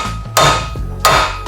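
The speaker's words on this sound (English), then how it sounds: "with the big hammer" A big hammer strikes metal twice during a minibike build, each blow a loud ringing clang spaced under a second apart, with a faint third hit at the end.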